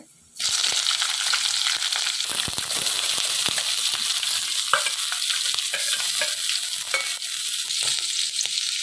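Loud, busy crackle of shallots and garlic frying in oil, with repeated stirring scrapes and pops over a constant hiss.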